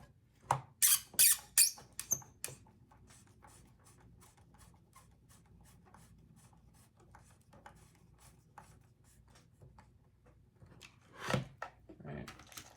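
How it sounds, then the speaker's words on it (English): Squeaking from a bolt being screwed into a hole through the base during assembly of a timer device, a quick burst of several sharp close squeaks early on, then quiet rubbing and a louder squeak later. "Squeaky, squeaky."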